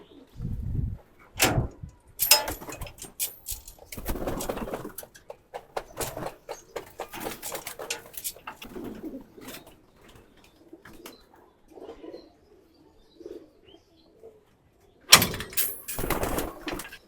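Caged pigeons cooing in rainy weather, soft low coos repeating through the middle, with louder bursts of thumping and rustling at the start and end.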